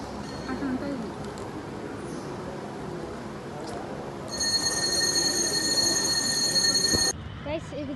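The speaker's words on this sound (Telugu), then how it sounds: "ట్రైన్ పడ్డది గైస్." A train passes behind a temple, heard as a distant rumble under chatter, then a loud sustained horn-like tone for about three seconds before fading.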